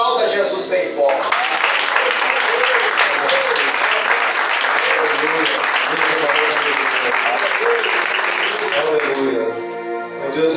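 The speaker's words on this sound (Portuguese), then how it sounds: "Aplauda Jesus bem forte." A church congregation claps loudly and continuously in a dense burst of applause for about eight seconds, with voices mixed underneath, before the clapping fades out.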